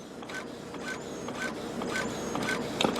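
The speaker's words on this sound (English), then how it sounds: "It's going to print out a nozzle pattern." A Brother inkjet printer fitted with refillable ink cartridges prints a nozzle check pattern, its print head sliding back and forth in quiet, regular mechanical passes with faint whirring.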